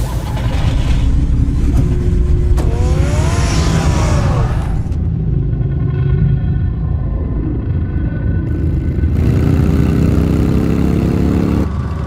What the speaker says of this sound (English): Get the car ready, Alfred.